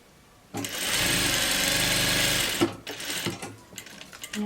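A domestic sewing machine runs a short burst of backstitching on a summer dress, a loud steady motor whir with rapid needle chatter for about two seconds, then stops, followed by fabric handling clicks.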